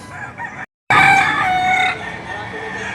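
A rooster crows loudly and close at a chicken market selling fowl, a single drawn-out call after a brief gap, with other clucking and crowd noise around it.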